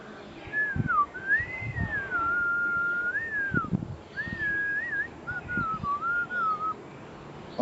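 A person whistles a wavering tune used as a signal to stop work and go home, in two long sliding phrases with a short pause between them, clear and close, with occasional soft knocks and handling noises beneath it.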